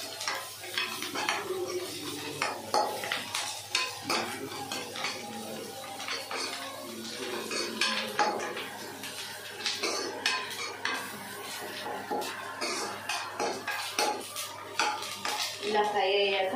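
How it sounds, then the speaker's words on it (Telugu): Onions, mint and coriander stir-fried in a pan for noodles, with a spatula scraping and clattering against the metal in steady, busy strokes over a faint sizzle, fairly quiet and up close. "ఒక 2 మినిట్స్ ఫ్రై చేసుకోవాలి."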